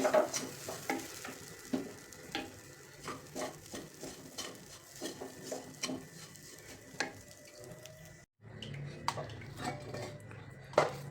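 A spoon scrapes and stirs a pea kachori filling in a pan with light sizzling, producing irregular clinks and taps against the metal over a quiet frying background, with no talking.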